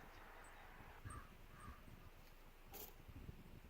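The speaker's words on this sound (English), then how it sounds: "Sorry, that was the crow." A few faint caws from a crow ring out in the distance over a quiet outdoor background with light wind, in Atlantic Canada.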